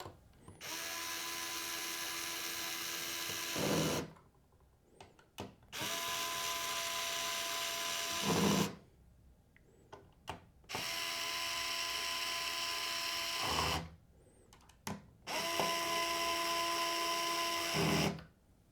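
A powered screwdriver tightens the mounting screws of a Noctua NH-D15 G2 Chromax Black CPU cooler: four separate bursts of high motor whine, each lasting a few seconds, with short quiet pauses between them.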